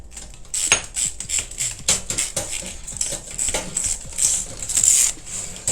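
A metal nut clinks and rattles against a shower faucet fitting as it is handled, making a string of small, close metallic taps and scrapes with no talking.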